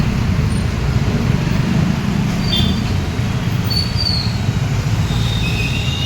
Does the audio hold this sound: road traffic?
yes